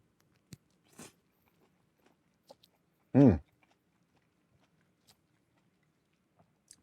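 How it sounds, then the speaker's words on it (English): A single crisp crunching bite of noodles, soy curls and red bell pepper stands out near the middle, surrounded by a few faint, sparse mouth clicks in an otherwise quiet room. "You get a little bit of crunch from the bell pepper"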